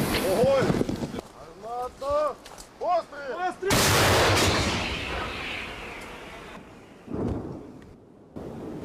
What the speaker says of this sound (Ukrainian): розрахунок цієї Д-30 мерщій, і без роздумів наводить свою гармату на ціль